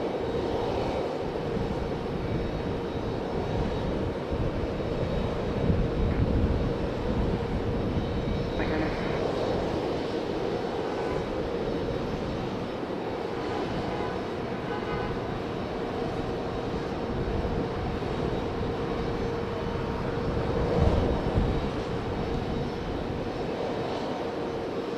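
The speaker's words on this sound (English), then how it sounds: "As the ATR struggles against the headwind, I swear it looks like it's struggling to make its way in." An ATR turboprop airliner lands at Raleigh-Durham International against a strong headwind, a steady distant propeller drone holding for the whole stretch, with faint voices now and then.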